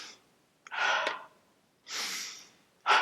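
A person takes exaggerated deep breaths, three loud airy inhalations and exhalations with short pauses between, close to the microphone and without speech.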